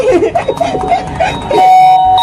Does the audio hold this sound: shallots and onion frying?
no